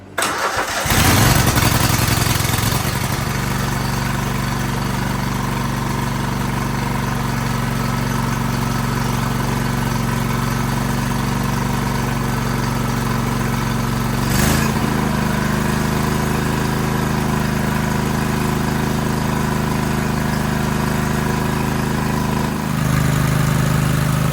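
A Craftsman DYT 4000 riding mower engine cranks and catches, then settles into a steady, loud mid-pitched run at half throttle, holding an even drone for about twenty seconds with a brief change near the end.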